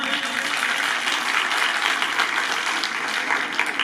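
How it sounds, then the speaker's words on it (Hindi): An audience at a quiz competition about Allama Iqbal claps, a full, even burst of applause that carries on for several seconds, close and loud. "जरा तालियों से बताएं ना।"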